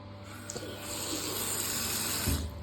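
Hot water runs steadily from a shower in a bathroom, a continuous hissing spray with a brief thump of handling partway through, fairly close and moderately loud.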